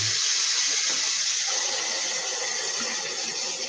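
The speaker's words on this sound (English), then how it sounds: "Turn the hot water on." Hot water pouring from a kitchen tap, a continuous close hissing gush that holds steady for several seconds with no voices.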